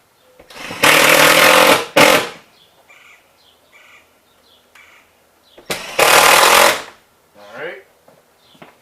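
Power screwdriver driving screws into old sheetrock drywall during a water-damage repair around a water heater: two loud, sustained whirring bursts about a second long each, separated by quieter handling noises and faint clicks.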